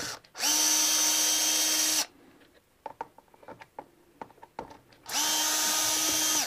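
A power drill whirs in two sustained bursts, driving screws into a Stratocaster-style electric guitar during setup, with quick mechanical clicks and rattles of screws being handled in the pause between them.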